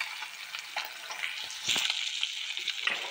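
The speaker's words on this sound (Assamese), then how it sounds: "এয়া মাছ ফ্ৰাই কৰি লৈছো প্ৰথমতে, আৰু মই মাছ লৈছিলো ৰৌ মাছ" Rohu fish pieces fry in a pan for an Assamese fish curry, giving a soft, close, steady crackling sizzle with brief louder pops.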